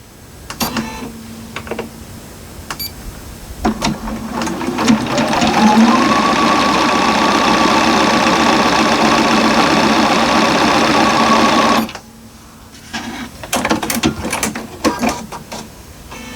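A sewing machine stitching quilt pieces runs in a loud, close, continuous whir for several seconds, bracketed by short bursts of mechanical clatter and ticking before and after the main run.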